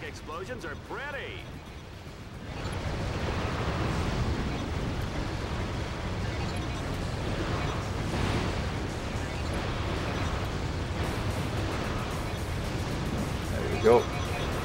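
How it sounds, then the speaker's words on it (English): Video game explosions in Ratchet: Deadlock on the Orxon level, a continuous rumbling roar of blasts and crashes with a sharper pop near the end, while a player talks over it. "I think explosions are pretty."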